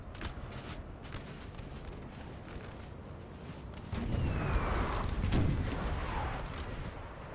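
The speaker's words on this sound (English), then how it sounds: "Some nice counter volleys here." Musket and artillery volleys in a Napoleon: Total War 4v4 battle, heard as a dense, continuous crackle of distant gunfire that swells louder midway, with heavier booming bursts mixed in.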